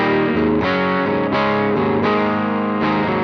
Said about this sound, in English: So on the bridge pickup I can roll the volume down a little bit.